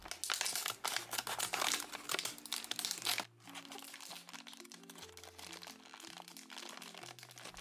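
Plastic blind bag from a Sylvanian Families / Calico Critters Baby Seashore Friends set being cut open, with loud close crinkling and crunching for about three seconds, then quieter rustling under soft background music.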